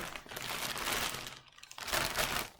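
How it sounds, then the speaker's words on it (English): Crinkly plastic mailer bag being torn and ripped open by hand, a close, dry rustling and crackling in two bursts with a short pause between. "let's start ripping packages open"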